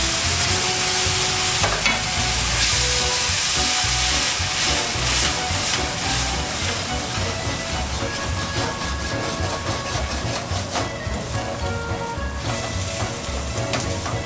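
Stock ladled into risotto rice sizzles and bubbles in a hot pan, a dense continuous crackle with stirring scrapes, loud and close, no voices.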